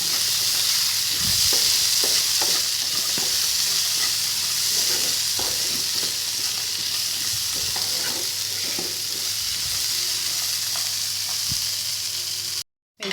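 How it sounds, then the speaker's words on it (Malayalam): Vegetables frying in hot oil with curry leaves and coconut pieces for a Kerala mezhukkupuratti stir-fry, a continuous close sizzle broken by irregular stirring scrapes, with no talking. "ഇനി ഇത് നിങ്ങൾക്ക് ആവശ്യമുള്ള അത്ര അളവിൽ മൂപ്പിച്ചെടുക്കാം."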